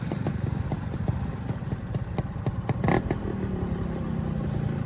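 A Yamaha MT-15 motorcycle idling before a street race, a close, steady rapid engine thrum with light clatter and a brief louder blip near the middle.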